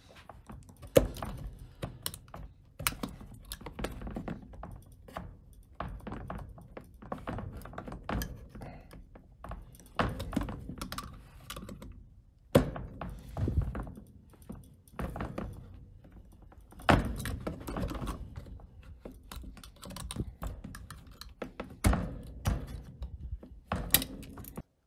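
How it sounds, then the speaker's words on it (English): An X-Acto knife snips small plastic lips off a drone camera charging station, producing sparse sharp clicks, snaps and light scraping taps at an irregular pace in a quiet room. "I'm taking a X-Acto knife and I'm cutting out all these little lips on here"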